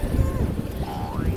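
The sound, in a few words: wind blowing outdoors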